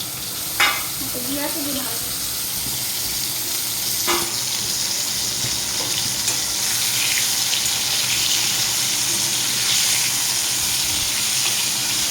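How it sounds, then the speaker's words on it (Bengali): Pointed gourd (potol) pieces fry in a little oil, a loud continuous sizzle with a few spatula clinks and stirring scrapes, close by. "সুন্দর লাল লাল করে পটল ভাজা হচ্ছে"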